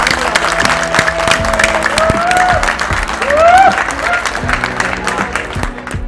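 Wedding guests in a courtyard in Muzaffarnagar clap for the groom, a continuous crowd applause with voices and some tonal sounds rising over it throughout.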